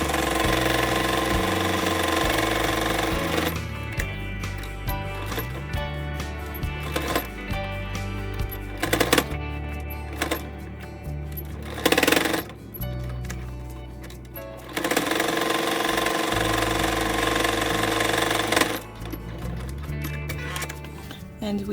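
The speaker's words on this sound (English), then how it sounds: "you pick up the foot of the machine and move the fabric this way and keep sewing." A sewing machine stitches a fabric face mask in long continuous runs. Its hum is loud and steady and stops briefly where the presser foot is lifted to turn the fabric, with light clicks and handling sounds in the pauses.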